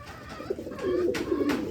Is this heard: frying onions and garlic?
no